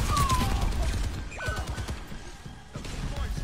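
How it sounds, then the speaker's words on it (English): Rapid gunfire from the Soldier: 76 hero in the video game Overwatch, bursts of sharp shots and impacts with a whistle of projectiles, mixed into busy game sound effects. "Someone's shooting me, 76 is shooting me."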